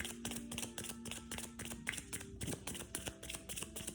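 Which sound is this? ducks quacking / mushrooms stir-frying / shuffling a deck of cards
shuffling a deck of cards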